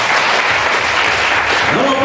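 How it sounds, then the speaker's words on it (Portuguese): A church congregation at a deliverance service claps loudly and continuously, a dense wash of applause with a voice rising briefly over it near the end. "Vamos aplaudir o Senhor Jesus."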